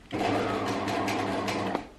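A Bernina sewing machine runs steadily with the pedal pressed, giving a close, continuous mechanical whir with rapid stitching ticks, then stopping near the end.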